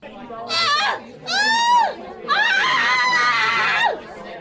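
Voices scream in bursts inside a house in an animated story, three loud, high-pitched wails with falling pitch separated by short pauses, with faint chatter in between.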